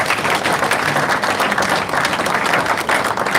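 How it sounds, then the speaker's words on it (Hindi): At an outdoor by-election political rally, a large crowd gives sustained, loud applause and cheering as a wrestler is honoured with a turban. The clapping is dense and unbroken throughout. "जोरदार तालियां बजाएं"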